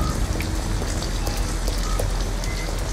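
Rain falls in the video game Detroit: Become Human as a steady, dense patter on surfaces with scattered sharper drops, continuous and alone.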